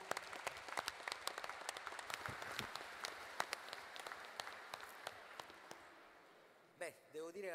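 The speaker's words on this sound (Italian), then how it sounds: "Accogliamolo con un applauso." Audience applause greets a speaker at a health-rights congress, a steady patter of many hands clapping that fades gradually, followed by a brief voice at the end.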